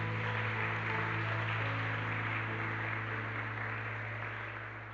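A church congregation claps hard for Jesus after a prayer, a dense, sustained wash of applause that holds steady at full strength and fades slightly at the end, with no voices over it.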